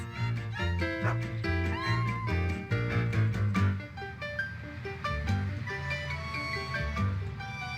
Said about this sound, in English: And the little kitten licks Dot's nose.